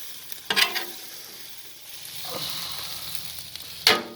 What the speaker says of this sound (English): just kind of let that egg all cook in there